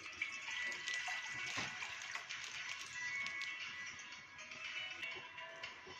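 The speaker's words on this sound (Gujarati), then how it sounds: "અહીંયા આપણે ગેસ ચાલુ કરેલો છે અને દૂધને નાખીશું" Milk pours into a kadai set on a lit gas burner for basundi, a continuous near liquid splashing and trickling sound lasting several seconds, steady and moderately quiet with no talk.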